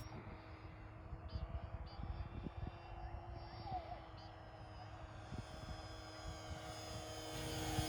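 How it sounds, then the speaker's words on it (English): An E-flite SE5A 900mm radio-controlled model of a 1918 biplane flies overhead on a breezy day, its electric motor and propeller giving a steady buzzing drone that swells near the end, with wind and a voice talking over it. "let's bring it up into a nice wing over, followed by a nice scale barrel roll. Such a nice smooth flyer"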